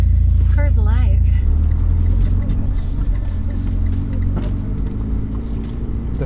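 A Mitsubishi Evo 10 engine drones low and steady inside the cabin on a first drive, a heavy rumble under constant close conversation between the occupants.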